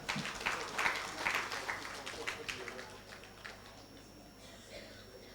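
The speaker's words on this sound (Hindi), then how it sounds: "एक बार जोरदार ताली बजाएंगे।" Clapping from the audience at a Bhagavat katha, starting in scattered bursts that grow briefly and then taper off into a quieter background with a few remaining claps.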